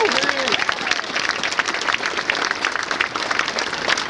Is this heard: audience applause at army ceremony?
yes